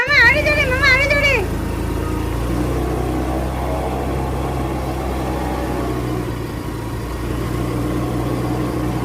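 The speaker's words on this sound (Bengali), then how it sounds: "মিঠি আর বান্টিকে নিয়ে রাহুল কেমন স্কুটি চালাচ্ছে।" A scooter engine hums steadily while being ridden, a continuous low drone heard close, with an excited voice speaking over it at the start.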